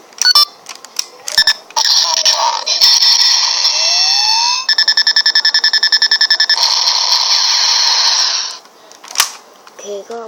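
A Kamen Rider Delta DX toy transformation belt plays a bright electronic sequence: beeps and a rising whoosh, then rapid chirping tones and a sustained synthetic fanfare that cuts off abruptly.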